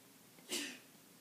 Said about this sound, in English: My roommate just sneezed out there.